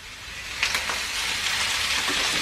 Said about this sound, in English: You can hear it sizzling now.